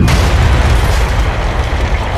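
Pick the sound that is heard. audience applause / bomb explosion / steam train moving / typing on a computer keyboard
bomb explosion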